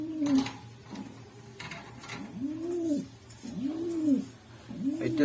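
Pigeons at a pigeon farm in Gazipur, Bangladesh, among them a large single male, give several deep rolling coos in a loose rhythm, close and clear over soft background rustling and faint clatter.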